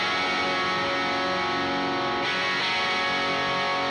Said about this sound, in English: This is the waveform of a Friedman amp that sounds like this.